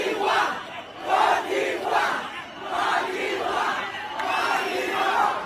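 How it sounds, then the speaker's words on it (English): A large crowd chants the two-part name of Côte d'Ivoire in a steady repeating rhythm, loud surging voices rising and falling about once a second in an excited, rally-like cadence. "All I saw was people chanting Côte d'Ivoire"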